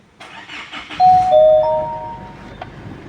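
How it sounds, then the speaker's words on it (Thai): A used Isuzu MU-X engine starts at the push of a button: the starter cranks briefly, a chime sounds, and the engine catches into a steady idle close by. "เหยียบเบรกกดปุ่ม สตาร์ท ค่ะ"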